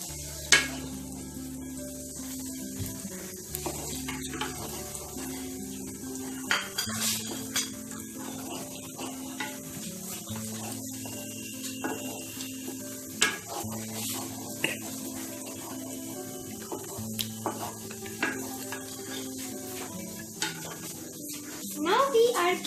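Thinly chopped onions sizzle in a pan while being stirred for a homemade chilli garlic prawn dish, with soft scraping and clinks of utensil against the pan under a steady background hum.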